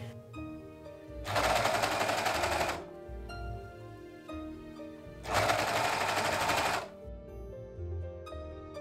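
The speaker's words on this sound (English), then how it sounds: "attaching it to the edge of my skirt with the serger" Serger overlocking stretch fabric onto the edge of a skirt for a Christmas cosplay outfit: two loud, rapid mechanical bursts, each lasting about a second and a half, separated by a quiet pause.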